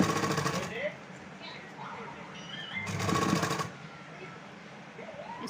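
A sewing machine stitching along a boat neckline of a garment in two short runs, at the start and again near the three-second mark, with soft handling noises between and someone speaking quietly.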